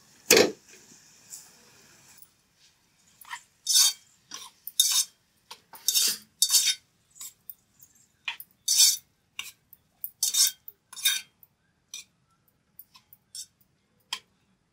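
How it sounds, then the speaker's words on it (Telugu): Metal spatula clinks and scrapes against a pan while chopped tomatoes fry with browned onions: sharp, irregular clatters close by after a brief opening hiss, with no voices. "టమాటాలు వేసుకుందాం."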